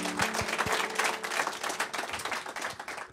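A studio audience applauding, a dense, steady patter of many hands clapping throughout, moderately loud and close.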